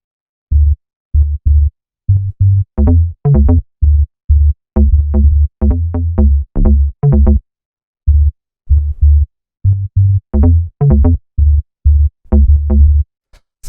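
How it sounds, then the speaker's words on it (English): A deep micro house bassline built from two layered synth basses. Short, punchy low notes bounce in a syncopated pattern, with higher plucky accents in between and brief gaps of silence, loud and unaccompanied. "we have the bassline, which is actually made up of 2 layers"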